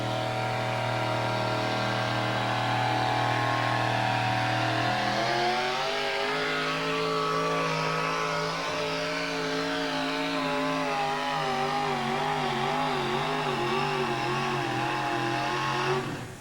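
A 604 Hemi Ford pulling truck at a 1987 USHRA/NTPA truck pull in Indianapolis holds a loud, steady engine drone, then revs hard and keeps a wavering, high-rpm roar for the rest of the run, with no talk.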